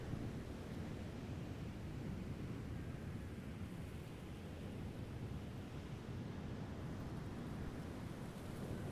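Ocean waves wash and break below a lighthouse in a steady, unbroken roar, soft and distant with no pauses, and no voices over it.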